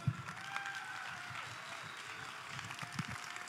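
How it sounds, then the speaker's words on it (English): Faint, steady applause from an audience honoring the CEO, Ventsislav Zlatkov, at a One Ecosystem white paper presentation, running throughout with tonal background sounds. "Big applause for our CEO, Mr. Ventsislav Zlatkov, everybody!"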